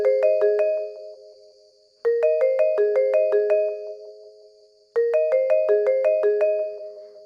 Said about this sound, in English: The ringtone kicked her awake.